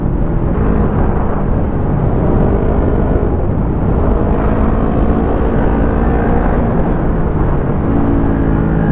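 A Honda CBR500R motorcycle engine drones steadily during a ride in sixth gear, loud and close with continuous wind rush over it and a low, even rumble throughout.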